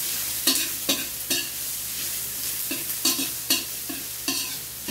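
Garlic and onion sizzle in hot oil in a pan, with a steady crackling fry under a run of sharp, rhythmic stirring clicks from a utensil scraping the pan, all close up.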